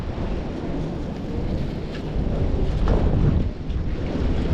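Wind blows at a sheltered shoreline fishing spot at low tide, a steady low rumbling buffet on the microphone that swells a little louder partway through, with no voices.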